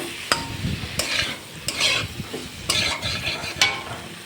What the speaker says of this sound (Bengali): পরিমাণ মতো নুন আর হলুদ দিয়েছিলাম। এবার কিন্তু খুব ভালো করে আমি কষিয়ে নেব।